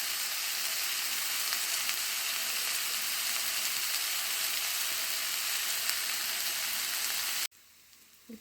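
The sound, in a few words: onions frying in a pan for radish curry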